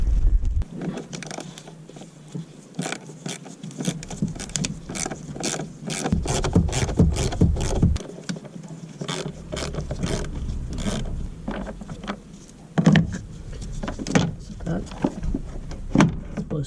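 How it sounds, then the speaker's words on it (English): Torx screws being worked out of the air filter housing on a Citroen C1 1.4 HDI, close-up tool clicks, scrapes and ratcheting taps coming in quick bursts while someone talks over them. "let's see if you can remove these torque screws without having to pull this apart"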